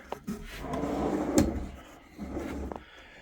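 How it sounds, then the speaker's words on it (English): New wooden shop drawers sliding open and shut in a workshop, a soft rumbling glide followed by a light knock, then another short slide, quiet and near with no talking. "these are the new drawers"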